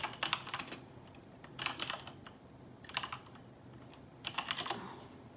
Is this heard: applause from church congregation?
no